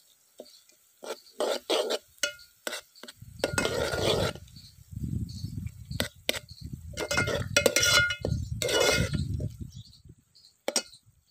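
A spoon stirs mashed brinjal with ginger-garlic paste for a Saurashtra-style ringan olo, sounding as irregular clinks and taps against a metal pan mixed with longer stretches of soft, close scraping and churning.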